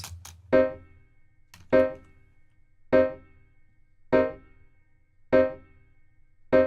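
A minor piano chord struck six times at an even, unhurried pace, each one ringing and fading before the next.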